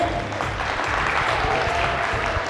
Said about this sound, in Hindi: सारे मिलकर तालियां बजाएं राइट के लिए